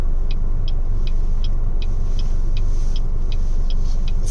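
Cars drive down a road in bad winter weather, a steady low rumble of tyres and engines, with a faint regular ticking running throughout.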